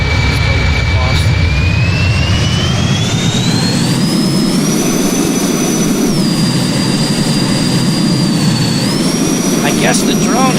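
A drone in a flight simulator roars like a jet engine, a loud constant whine whose pitch shifts up and down as it flies, with talk faintly underneath.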